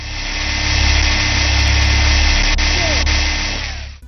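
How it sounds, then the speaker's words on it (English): A power drill in the Surv1v3 VR game whines steadily as it bores through a door lock, a loud, sustained mechanical hum with a low rumble that holds for several seconds before cutting out. "You have to use a drill to unlock many doors"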